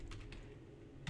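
Keystrokes on a computer keyboard, a short run of quiet, close clicks with a slightly louder tap at the end, no voices.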